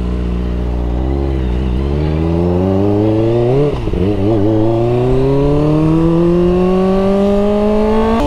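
A Kawasaki ZX25R motorcycle screams close by as it rides, its high-revving engine climbing in pitch through the gears with a quick blip and shift midway, loud and continuous.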